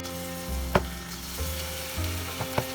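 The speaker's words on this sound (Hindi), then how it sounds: "इधर मैंने वेजिटेबल ऑयल लिया 1 कप चिकन डीप फ्राई करने के लिए" Chicken pieces deep frying in a cup of hot vegetable oil for orange chicken, a steady close sizzle with a few sharp spattering pops, no talking.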